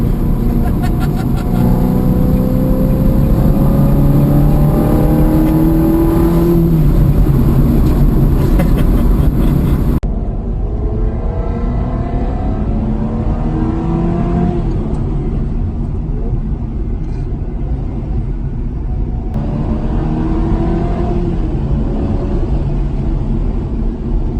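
A Citroën 2CV and a Ferrari racing on a rally course in the Yonne, heard as loud, continuous engine roar that rises and falls as the cars accelerate, with voices talking over it.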